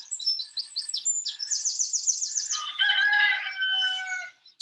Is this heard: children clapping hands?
no